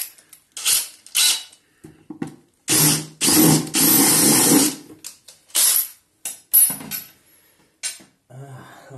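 A large drill bit bores into a Miele TwinDos detergent canister, with loud bursts of whirring and grinding separated by pauses and short clicks.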